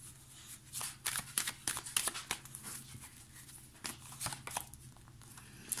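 Arcanum Tarot cards being shuffled for a draw, a quick run of soft flicks and riffles that comes in uneven bursts at close range.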